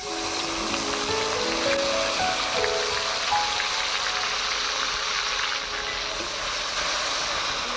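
Dry red chilli and black cumin fry in mustard oil for okra posto, giving a continuous, even crackling sizzle that stays fairly loud and alone.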